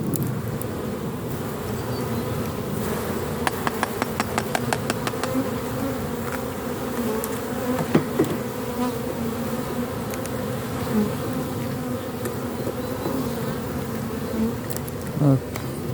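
Honeybees hum in a dense, continuous buzz at an open hive during an inspection, with occasional clicks and taps of handling and faint speech in the background.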